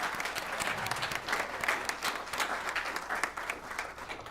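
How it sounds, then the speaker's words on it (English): A congregation at a Sunday service applauds, a dense, even round of many hands clapping, fairly quiet and distant, continuing steadily throughout. "can we just have a round of applause for what this center pulled off?"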